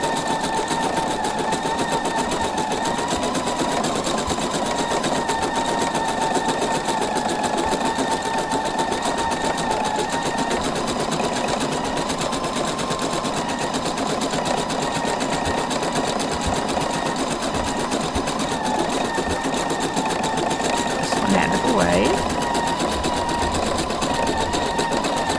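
A combination sewing and embroidery machine couches yarn, running as a steady, loud mechanical whir with a constant rapid stitching rhythm, close up and continuous, with no talking.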